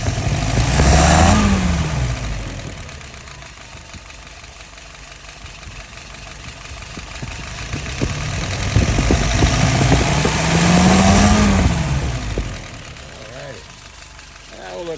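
A carbureted engine on a YF 938 is revved up twice, each rise swelling into a loud whine before dropping back to a steady, lumpy idle near 700 RPM, with a person talking during the idle.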